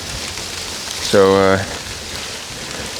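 Heavy hail falling hard outdoors and piling on the ground, a dense steady patter throughout, with one brief spoken word in the middle.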